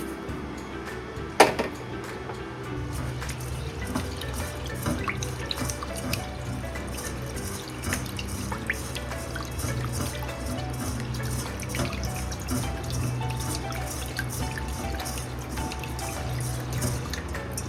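Biryani rice being washed in a bowl under running tap water, a steady splashing flow with drips and sloshing throughout, close and fairly loud, with one sharp knock near the start.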